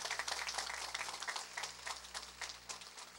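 An audience clapping for the diaspora at a Haitian gathering, a faint, steady patter of many hands heard from a distance over a low hum.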